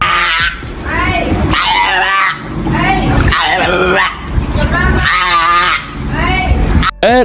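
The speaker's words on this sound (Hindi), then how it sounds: "अब जरा इस सील को भी देख लेते हैं, जो पानी से बाहर आकर अपनी सुरीली आवाज में चिल्ला रही है।" A seal out of the water calls loudly in repeated harsh, barking wails with a wavering pitch, several drawn-out cries in quick succession, close and strong.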